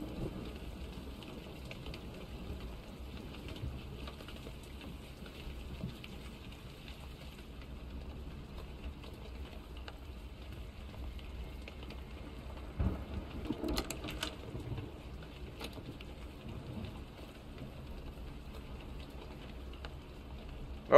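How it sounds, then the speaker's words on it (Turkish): Steady rain falls in the Blair Witch video game, a soft continuous patter with a low hum beneath and a few louder knocks midway, no voices. "Yağmur da ne güzel yağıyor ya, tıkır tıkır."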